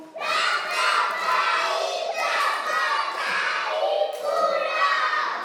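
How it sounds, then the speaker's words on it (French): A room of children in a French vocabulary class erupts in shouting and cheering, a loud, busy burst of young voices and clapping that swells and dips. "Applaudissez pour vous."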